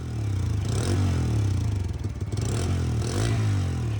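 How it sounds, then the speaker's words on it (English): A Bajaj Freedom CNG motorcycle's thrummy exhaust note while riding, a close, continuous low drone with slight surges and some clattery wind noise, no voices. "There's a nice thrummy exhaust note all throughout as well."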